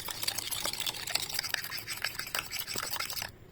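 A spoon stirs a sauce of soy sauce, sesame oil and sugar for a home-made shrimp dish, giving rapid, repeated close scrapes and light clinks for a few seconds.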